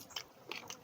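Close-up crisp crunching bites, two or three quick crunches in under a second.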